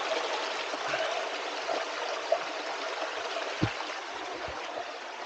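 Water from a spring at Bunot Lake flows in a soft, continuous stream and trickle nearby, with a couple of faint knocks and no talking.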